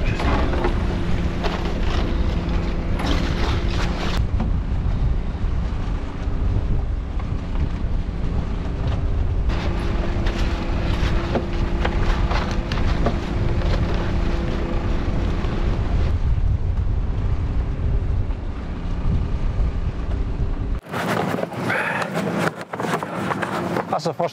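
Wind buffets a microphone on a boat at sea, a loud, steady roaring gust noise mixed with engine hum and water, continuous for about twenty seconds before cutting off, with people talking.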